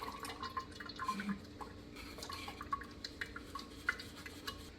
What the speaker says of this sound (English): sometimes you need a spoon to get it to go through the strainer all the way.